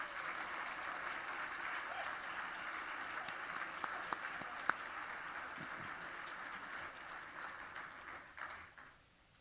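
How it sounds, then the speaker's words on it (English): Steady broadband applause from an audience at a university awards evening welcoming new members to a President's Society, sustained and fairly even, thinning out and fading in the last second or so. "Please join me in a round of applause for our new members to the President's Society."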